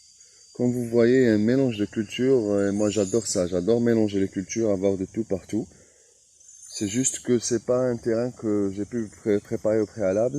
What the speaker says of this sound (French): Vous entendez les cigales qui crient.